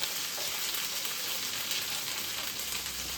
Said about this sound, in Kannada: ಎಣ್ಣೆ ಕೈದಿದಾದ್ಮೇಲೆ ಉಳ್ಳಾಗಡ್ಡಿ, ಒಂದು ಸ್ವಲ್ಪ ಉಳ್ಳಾಗಡ್ಡಿ ಹಾಕಬೇಕು.